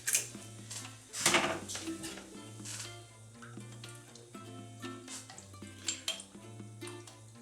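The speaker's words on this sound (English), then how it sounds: "Whisk it a little bit." Egg wash being whisked in a bowl for glazing a stout loaded pie: quick clinking and scraping of a utensil against the bowl in uneven strokes, over a kitchen background with a steady low hum.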